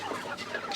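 Broiler meat chickens cluck in a short burst of overlapping, busy bird calls, close and steady throughout, with no voices.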